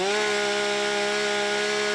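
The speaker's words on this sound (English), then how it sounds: "getting extra practice with chainsaws cutting down brush and trees" A chainsaw runs at a steady high whine while cutting brush and trees, the engine note holding constant and loud throughout with no pauses.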